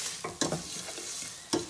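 Ajwain seeds and black pepper being stirred in a pan while making lemon pickle, a spoon scraping and clinking in a few distinct strokes over a low, steady sizzle.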